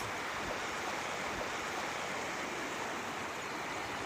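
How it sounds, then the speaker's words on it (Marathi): Floodwater rushing down the swollen Shelgaon river in Ardhapur taluka, a steady, dense roar of flowing water that holds constant throughout, close and loud, with no voices over it. "अर्धापूर तालुक्यातील शेलगाव नदीला पूर आलेला आहे"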